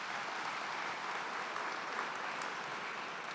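Audience applause at a ribbon cutting for a San Pedro innovation center, steady dense clapping held at an even moderate level throughout, with no talking over it.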